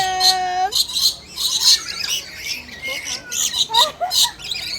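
Lorikeets at Ocean Park Cebu let out repeated shrill, harsh squawks and chirps at close range, loud and overlapping in quick bursts.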